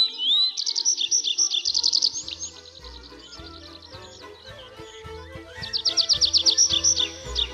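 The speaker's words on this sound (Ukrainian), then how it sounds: "Давайте послухаємо спів" A small bird sings bright, rapid trilling phrases, clear and close, with quieter chirps and faint clicking in between.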